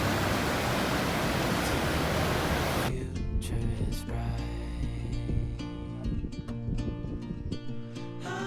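Water rushing steadily down from the top of the Llangollen Canal toward Hurleston Reservoir, a loud broadband roar that fills the opening seconds and then drops to a softer wash beneath other sounds.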